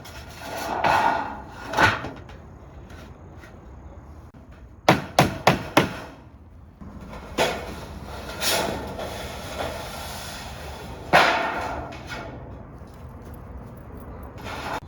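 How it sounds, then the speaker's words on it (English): Hammer blows drive large-head roofing nails into the wood of a shed floor, sharp close strikes coming singly and in quick bursts with quiet gaps between them. "We're putting about 3 or 4 of these large head roofing nails."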